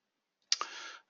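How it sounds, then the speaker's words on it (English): A single computer mouse right-click, a faint close click followed by a soft short tail, alone in silence. "Right click,"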